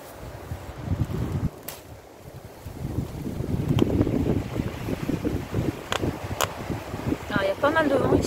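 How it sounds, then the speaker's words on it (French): Gusty outdoor wind buffets the microphone with a loud, low rumble that swells and eases over several seconds, during citron-tree air-layering work, with a brief voice near the end. "il y a pas mal de vent ici. C'est très ventilé."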